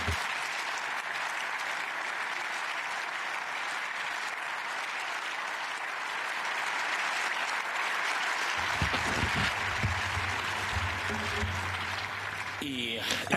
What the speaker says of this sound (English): And these applause are not directed to me and at me.